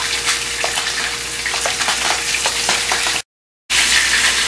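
Seasoned pieces of meat sizzle steadily as they are laid into a hot pan, a loud, close frying hiss with small crackles, cut by a brief moment of silence near the end before the sizzling resumes.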